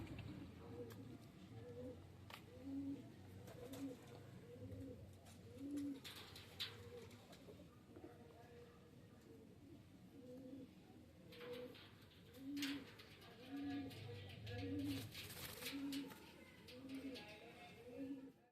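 Pigeons coo in soft repeated low phrases, fairly close, with occasional rustles and faint clicks around them.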